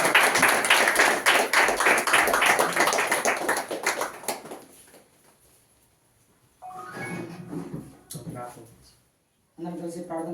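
A church audience claps to welcome a preacher, a dense burst of applause for about four seconds that quickly fades out, followed by someone speaking.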